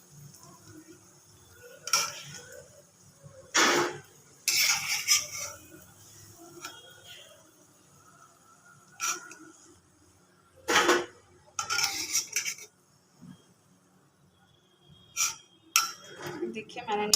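Fried pakoras are lifted out of a pan, with a metal utensil clinking and scraping against the cookware in scattered, close bursts between quieter stretches. A voice speaks at times.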